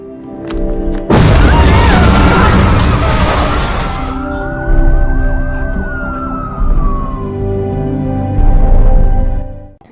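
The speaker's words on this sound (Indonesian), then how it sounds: "meledakkan sisa granat" Leftover grenades detonated in an action film scene: a sudden heavy boom erupts after a second, followed by a long rumbling roar with a rising and falling siren-like tone and further surges of blast noise, loud and dense.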